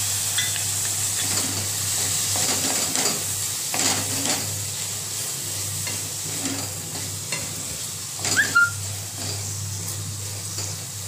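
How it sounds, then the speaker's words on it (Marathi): Green peas sautéing in a pan for palak paneer give a steady, close sizzle, stirred and scraped now and then, with a brief louder clatter of utensil on pan near the end; no one talks. "याच्यामध्ये मटारचे दाणे परतायचे"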